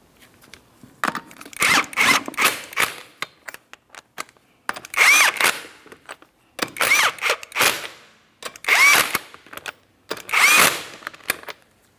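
Power tool snugging lug nuts on a 2004-2008 Pontiac Grand Prix front wheel during a wheel bearing and hub replacement, in several short loud whirring bursts separated by brief pauses.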